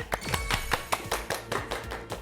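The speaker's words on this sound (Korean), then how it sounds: "자, 그럼 오늘 강의해 주실 윤영섭 강사님 박수로 모시겠습니다." A small audience at a personal finance lecture claps to welcome the speaker, a short patter of distinct, fairly quiet individual claps from a modest group.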